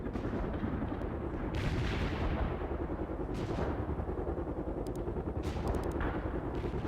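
Artillery barrage in the World in Conflict video game, rumbling blasts and crackling impacts layered in a dense, continuous battlefield roar, with no talking.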